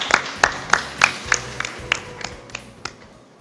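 An audience at a startup investor pitching forum claps to welcome a company CEO onto the stage, with about a dozen sharp, evenly spaced claps that gradually fade.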